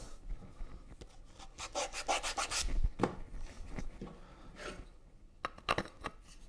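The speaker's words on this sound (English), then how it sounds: "So then I'll just touch this up with a little sandpaper." Sandpaper is rubbed by hand over the wooden parts of a homemade yarn winder, making quiet, close, irregular scratchy strokes in short bursts with brief pauses between them.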